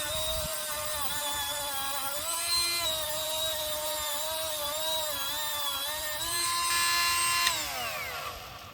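Burnishing Delco ignition points on a Farmall H tractor, heard as a steady, close whining grind with a pitch that wavers and then drops off toward the end, with no talking.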